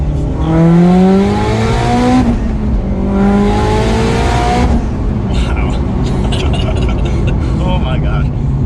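A turbocharged Mitsubishi Lancer Evolution X with an upgraded turbo and stock axle-back exhaust accelerates hard through two rising gear pulls heard from inside the cabin, then settles into a lower rumble with wind noise and faint clicks.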